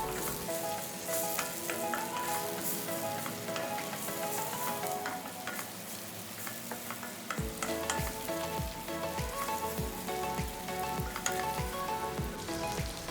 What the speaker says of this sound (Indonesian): Setelah itu aduk rata semua bumbu hingga harum.